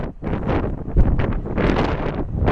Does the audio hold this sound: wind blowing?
yes